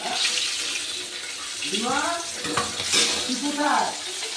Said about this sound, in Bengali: বাকি মাছগুলো আমি এবার ভেজে নিচ্ছি